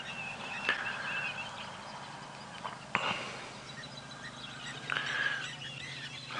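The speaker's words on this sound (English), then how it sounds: "Normally there'd be more, and they're quite noisy. They sort of honk along." An aquatic bird gives a few separate honking calls, faint and distant, spaced across a quiet sunrise safari drive with a low background rumble.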